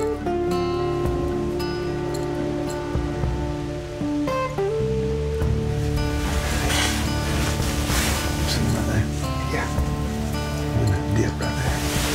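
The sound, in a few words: rain falling on a hunting blind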